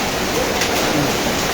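Hail pelts down in a strong wind during a hailstorm, a dense, steady roar of hammering ice and rushing gusts close by, loud and unbroken throughout.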